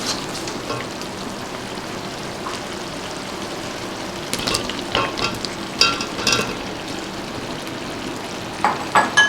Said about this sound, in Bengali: এবার কোফতাগুলো দিয়ে দেবো।